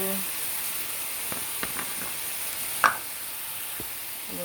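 Peppers, onions and thin-spread meat for a keto Philly cheesesteak sizzle in a frying pan with a steady, moderately quiet hiss, broken by a few soft clicks and one brief sharper pop near the end.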